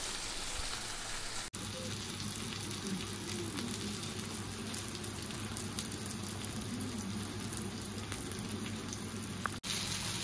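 Paneer and mushroom tandoori pieces frying in a pan, a continuous close hiss of sizzling oil with two brief clicks.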